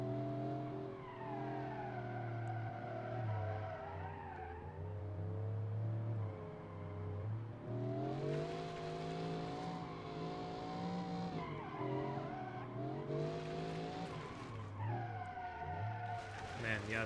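A car engine in the driving game BeamNG, holding a steady whine then revving higher, with long tire squeal as the car slides without grip, continuous and moderately loud, a voice talking over parts.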